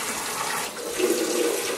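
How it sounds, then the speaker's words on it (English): Water streams steadily from a cold tap into a container for just under two seconds, a close, continuous rushing hiss that swells slightly toward the end, with no talking. "Let the tap run for a bit."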